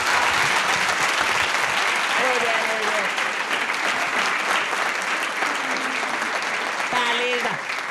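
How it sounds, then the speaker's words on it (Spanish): A TV show studio audience claps steadily in a sustained round of applause, with a few voices calling out over it. "¡Aplausos!"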